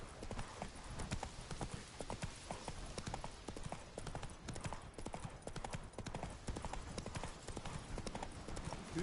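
Hooves of Roach, the horse in The Witcher 3, clip-clop in a quick, even rhythm throughout, fairly close and continuous, with faint background voices now and then.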